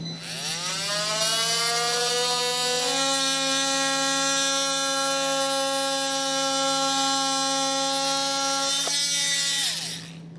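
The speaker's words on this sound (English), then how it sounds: "I'm going to use a multi-tool to trim this out." An oscillating multi-tool trims the plastic bumper fascia of a 2023 GMC Acadia to fit a Curt trailer hitch receiver: a loud, close, steady buzzing whine that spins up, holds for several seconds and cuts off near the end, with no talking.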